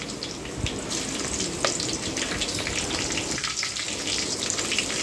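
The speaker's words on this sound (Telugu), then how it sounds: "యాలకులు, అనాస్ పువ్వు, జాజి పువ్వు, మరాఠీ మొగ్గ వేసుకొని ఫ్రై చేసుకుంటున్నానండి" Whole cardamom, star anise, mace and marathi moggu frying in hot oil for biryani masala, giving a dense, steady crackling sizzle close up with occasional louder pops.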